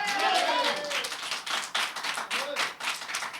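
Scattered hand clapping from a small church congregation during a Sunday service, with sharp, uneven claps under a voice that carries over them.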